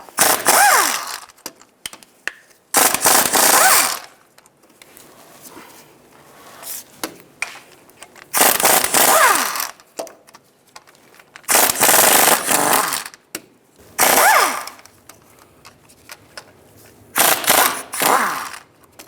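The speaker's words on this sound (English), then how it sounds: "Use a 15mm socket, take these bolts out." An impact tool with a 15mm socket backs out bolts on a 2007-13 Chevy Avalanche front differential mount, firing six or so loud rattling bursts separated by quiet pauses, with no talk.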